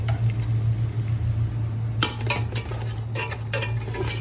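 Chilli, turmeric and coriander powders with salt sizzle in oil for a curry, a steady frying hiss under a low hum, punctuated by several sharp spoon-on-pan scrapes and clinks as the spices are stirred.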